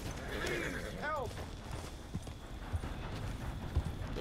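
A horse in Red Dead Redemption 2 gives a rising whinny while hooves clop irregularly under a steady ambient bed and low background voices.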